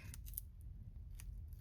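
Scissors snip a few quick, faint times while cutting paper journal pockets, with soft crisp clicks over a low steady hum.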